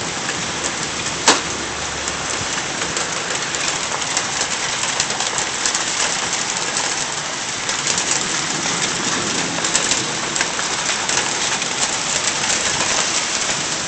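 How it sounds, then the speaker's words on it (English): Heavy rain pours down in sheets during a hail and wind storm in McKinney, Texas, a loud, unbroken roar of drops hammering surfaces, with a sharp knock near the start and a dove cooing faintly beneath. "Here comes the hail."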